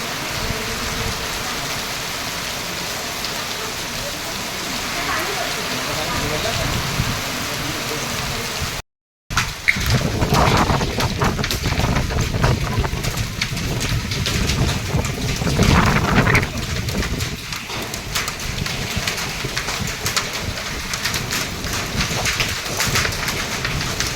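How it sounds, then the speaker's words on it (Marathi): An unseasonal hailstorm with strong wind in Karjat-Khalapur makes a dense, continuous roar of falling ice and rain with rumbling thunder, broken by a brief silent gap before the downpour returns heavier. "कर्जत खालापूरमध्ये जोरदार वाऱ्यासह गारांचा पाऊस पडला आहे"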